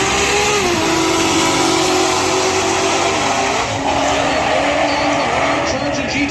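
Loud, roaring drag race car engines, including a 2JZ-powered BMW E30 and a GTO, dominate throughout at Texas Motorplex, with a high whine and brief squealing as the cars brake hard.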